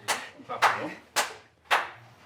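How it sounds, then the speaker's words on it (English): Four sharp hand claps for audio sync ring out one by one at roughly half-second intervals, each crisp and close with a short room tail, with quiet talk between them. "Do a clap for your audio sync."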